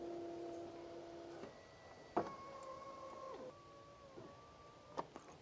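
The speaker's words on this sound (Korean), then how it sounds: "보셨다시피 이렇게 전동 시트도 이상 없이 작동이 됐습니다." The electric power seat motor in a Hyundai All New Tucson SUV whines faintly at a steady pitch. The tone shifts a few times as the seat moves, with soft clicks from the switch between runs, and no voice is heard.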